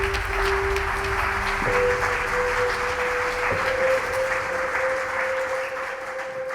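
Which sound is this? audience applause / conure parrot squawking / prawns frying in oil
audience applause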